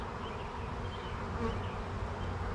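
A shop swarm of honeybees buzzing in a dense, steady drone close by, building new comb full of eggs, a continuous hum with no talk over it.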